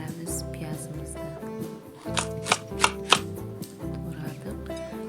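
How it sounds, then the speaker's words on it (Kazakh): Potatoes, carrots and onions sliced with a knife on a board in a home kitchen, giving quick, regular chopping taps in runs, with a few louder sharp knocks in the middle and a faint voice underneath. "Енді көкөністерімізді турап дайындаймыз."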